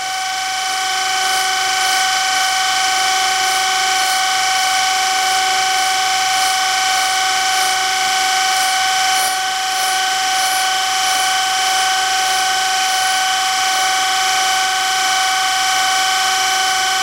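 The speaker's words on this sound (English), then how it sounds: "Need to put a motor on this little spinner here." A small motor-driven spinner on a precision toolmaking machine runs at a steady pace, making a constant high whine with layered tones and a fine repeating ticking, close and unchanging throughout.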